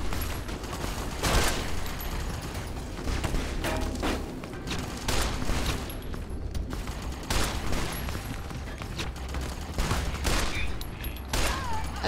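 Fallout: New Vegas gunfire: a dense, continuous run of shots and bursts layered with combat effects, loud and sustained throughout, with occasional voice mixed in.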